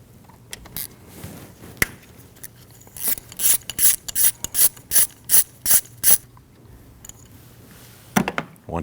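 A ratchet backs out an 8mm bolt holding the intake variable valve timing solenoid on a 2013-2019 Ford Escape 1.5L, with scattered clicks first, then a loud, even series of rapid ratcheting bursts up close, a pause, and a few final clicks.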